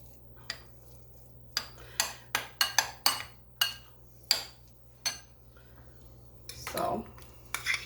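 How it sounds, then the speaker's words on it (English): A utensil stirs egg salad in a bowl, giving about a dozen sharp, close clinks and taps in an uneven rhythm with a brief scrape near the end, no speech. "I'm just going to stir this up first just to kind of mix it up good."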